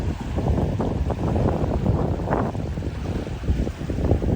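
Wind gusting across the microphone outdoors, a continuous low rumbling rush with uneven swells.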